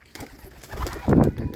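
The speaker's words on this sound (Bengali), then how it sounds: "দেখুন গিরিবাজ কবুতরটা কি ডাকে" A Giribaz pigeon gives a short, close, low cooing call that rises briefly in a single throaty burst.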